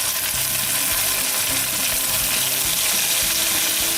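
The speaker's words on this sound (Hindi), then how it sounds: "हल्का सा शैलो फ्राई कर लेंगे अनियंस को" Onions shallow frying in a pan, a continuous dense sizzle with occasional stirring scrapes and clinks, steady and close throughout.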